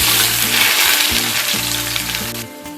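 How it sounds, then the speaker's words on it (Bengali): Boiled yam, potato and chickpeas hit hot oil and sizzle loudly up close, a dense steady frying hiss that eases slightly toward the end, without talking. "ভালোভাবে তেল গরম হয়ে গেলে এর মধ্যে আমি ওল, আলু আর ছোলা যে সেদ্ধ করে রাখা ছিল সবটাই অ্যাড করে দিলাম।"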